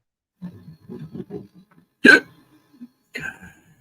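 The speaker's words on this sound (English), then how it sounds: "How do I get hiccups?" A single sharp hiccup stands out loud and sudden between stretches of soft murmured talk, with more speech returning just after it, in a room where snakes are being handled.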